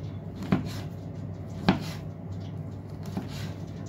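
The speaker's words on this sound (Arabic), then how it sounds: "واخرطها" A knife chopping sheep tail fat on a board as an Alexandrian liver dish is prepared, three separate sharp cuts about a second apart over a quiet, low background hum.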